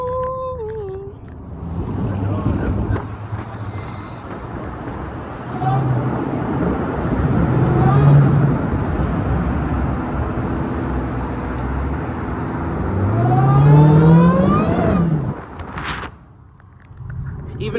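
A powerful car on low boost revs hard and spins its wheels in traffic. The engine note rises and falls in loud surges, and voices are heard over the noise of the road.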